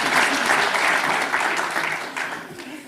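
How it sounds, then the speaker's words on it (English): Full audience applause at a community event, dense clapping that stays strong before gradually thinning and fading toward the end. "Give them a round of applause."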